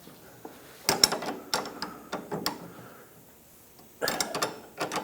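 An 18mm wrench and 8mm socket work the nut on a 2012-2020 Ford Focus rear sway bar link, giving close, faint metallic clicks and ratchet ticks in irregular bursts with quiet gaps.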